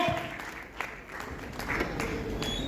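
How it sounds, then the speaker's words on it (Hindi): Applause from an audience at an AWPL leaders' event fills the space, steady and fairly loud, with scattered individual claps standing out. "ऐसे गुरु के लिए एक बार जोरदार तालियां होनी चाहिए"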